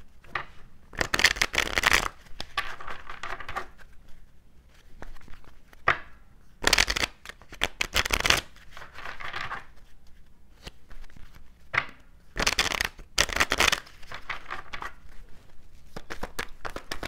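Angel oracle cards shuffled by hand in repeated bursts, crisp riffling rustles of a few seconds each separated by quieter handling and pauses, close and clear with no talking.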